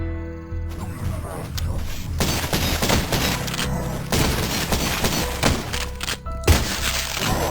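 Rapid gunfire blasts and booming impacts in the retro first-person shooter game Cultic, loud and dense, with brief gaps between volleys.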